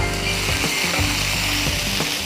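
Masala paste frying in coconut oil, a steady close sizzle with faint stirring scrapes throughout, no voices.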